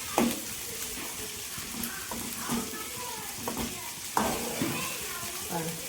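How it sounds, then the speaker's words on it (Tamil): Food frying in oil in a home kitchen, a steady sizzle with occasional clatters of a utensil turning the pieces, while voices, including children's, murmur in the background. "நல்லா இப்படி எண்ணெயிலே உடையாத பரட்டிக்கோங்க"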